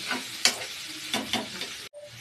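Tomatoes and crushed garlic sizzle and fry steadily in hot oil, with a few sharp stirring scrapes in the pan, close and fairly loud before a brief pause.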